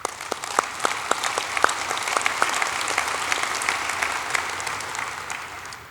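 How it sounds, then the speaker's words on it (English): Audience applause at an Air Force keynote event, a steady wash of many hands with sharper individual claps standing out, moderately distant and sustained for the whole stretch. "A big round of applause for them."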